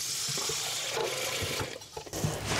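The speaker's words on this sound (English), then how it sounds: "So I just have hot water running, a steel wool scrubber, and I'm just going to scrub it." A cast iron skillet with burnt bits is scrubbed with a steel wool scrubber under running hot water, a steady close rush of tap water with scraping strokes breaking through toward the end.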